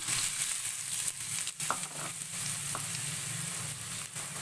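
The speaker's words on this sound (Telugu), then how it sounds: "ఆయిల్ వేడైందండి. ఇప్పుడు ఆనియన్స్ వేస్తున్నాను." Chopped onions fry in half a spoon of hot oil in a pan, a steady, loud, close sizzle with a few faint stirring knocks and no voices.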